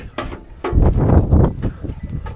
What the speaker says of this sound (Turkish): Koyunlarımız yaylımdan geldi.